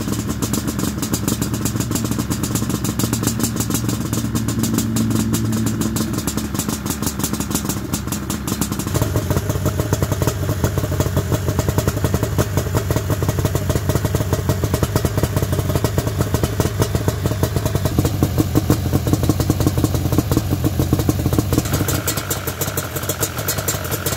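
A Yamaha Banshee ATV engine runs loud and steady close by, its rough two-stroke clatter holding throughout. The pitch shifts slightly partway through as it keeps running, with no talking.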